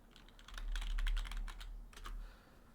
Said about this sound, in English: Actually, maybe I could just type in coordination and see.